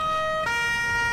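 Emergency vehicle sirens in Farming Simulator 19, loud tonal wails that jump abruptly in pitch midway, close and alone without voices.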